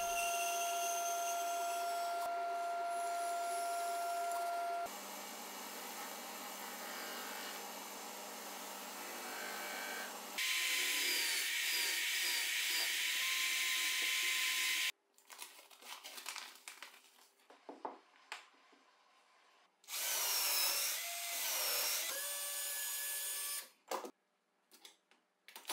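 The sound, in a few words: cutting the wooden base of a tool station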